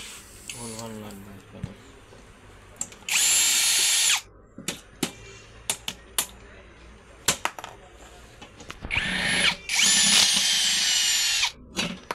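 A power drill unscrews the side panel of a professional audio amplifier on a repair bench, two sustained whirring bursts with short taps and clicks between them, close and loud, while someone talks intermittently.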